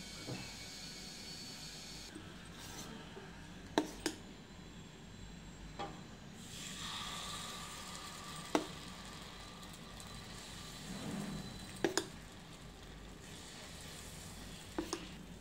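Ghee sizzling in a hot appe pan for a sweet appe batch, a continuous low hiss with steady crackle and a few sharp clicks of a utensil, heard close and fairly quiet with no talking.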